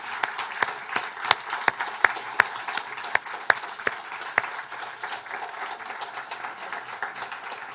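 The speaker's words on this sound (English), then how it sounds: "can you all just raise your hands and give a big cheer and a clap" Esports audience clapping and cheering in a hall, a crowd applauding with sharp individual claps standing out over a steady wash of applause that fades slightly toward the end.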